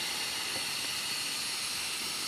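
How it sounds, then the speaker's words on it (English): Steam hisses from open steam engine cylinder petcocks in a loud, continuous jet, a bright, steady rush with no pauses. "you always want to have the petcocks open to let the water out of the cylinder"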